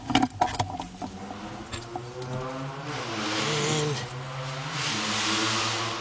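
A car engine on a GM vehicle undergoing timing chain replacement is cranked but fails to catch, a few clicks and knocks giving way to a sustained churning whir that rises and falls in two long pushes, close by.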